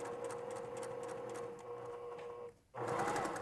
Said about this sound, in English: now I'm just going to slowly work my way around the mask using that 1/4 inch seam allowance